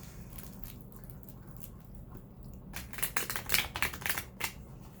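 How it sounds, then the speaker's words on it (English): Tarot cards shuffled by hand produce soft rustling that turns into quick riffling clicks and flutters in bursts, close and fairly quiet, with no talking. "And another way I've been shuffling,"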